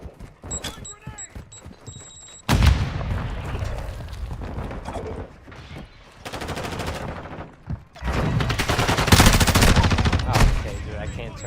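Automatic weapon fire in a Modern Warfare video game, sustained loud bursts with heavy recoil-driven rattling. Two long sustained volleys stand out, and game voice prompts and talk occur at the start.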